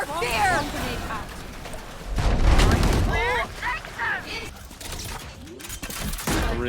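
Explosive blasts and gunfire from a Valorant match, with a heavy low boom near the middle set among sharper shots, all under frequent voice lines and talk.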